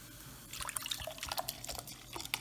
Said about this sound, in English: Now I'm gonna pour us all some sparkling water.